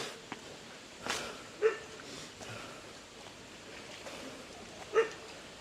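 A dog barks a few times in the distance in the Philippine countryside, faint, brief yelps over a quiet outdoor background.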